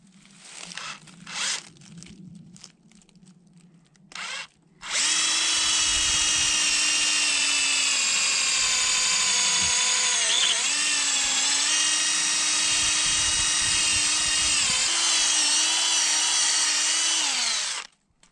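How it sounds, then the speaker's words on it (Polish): A drill bores a hole about 50 cm up the trunk of a birch tree to tap its sap, giving a loud, steady, high whine for roughly twelve seconds with brief dips in pitch, after a few faint handling knocks. "Wiercimy. Wiercimy na wysokości 50 centymetrów."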